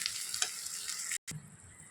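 A spice tempering sizzles and crackles in a hot pan as it is stirred, a close, steady frying hiss broken by a brief silence before the sizzle resumes.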